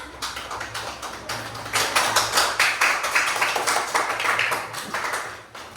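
Children in a classroom clap for a group of classmates, a loud mass of irregular hand claps building into a steady rhythmic clapping that goes on for several seconds, near and with no voices.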